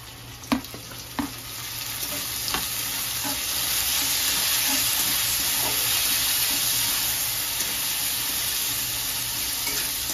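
Chopped onion and tomato sautéing together in a pan, a continuous close sizzle with a few sharp taps and scrapes of a spoon near the start, then steady frying alone.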